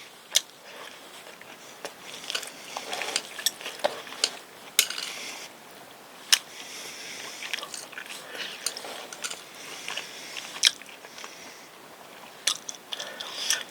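Close-up eating of Ottogi pizza with pepperoni and cheese, soft wet chewing and bites with occasional crisp clicks and light utensil taps, quiet and intimate with no talking.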